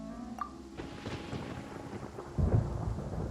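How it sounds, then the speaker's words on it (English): Thunder rumbling in the video game Genshin Impact, a low rolling boom that swells louder near the end, with rain hissing beneath it. "Paimon hears thunder!"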